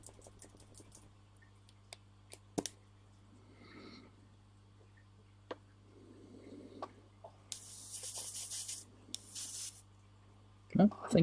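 A spray bottle of watered-down paint or colour mist hisses in two sustained bursts, close and fairly loud, among quiet tapping and handling noises, with a little speech earlier.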